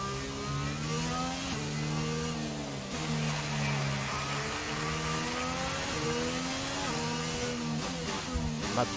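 Alpine Formula 1 race car in the F1 22 video game on the Austria circuit, its engine note rising and falling through gear changes and corners, loud and continuous, with a driver's voice occasionally talking over it.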